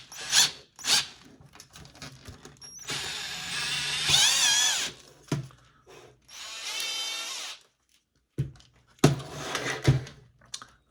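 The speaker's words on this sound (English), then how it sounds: "let's go ahead and get drilling" A power drill bores a hole into the top of a plastic Hasbro toy wand, whining in several bursts of a few seconds each, separated by short pauses and clicks as the bit bites and is stopped.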